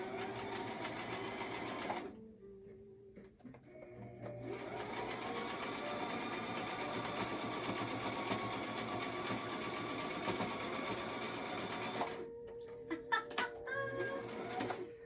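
Sewing machine stitching a seam on a dress made from a recycled towel, a steady close whirring hum running continuously with a brief pause near the start and a stop toward the end, with no talking.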